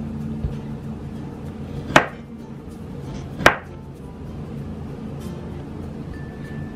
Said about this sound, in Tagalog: So, ito yung kiwi ko, guys. Hiwain lang muna natin siya. Medyo madulas lang siya hiwain,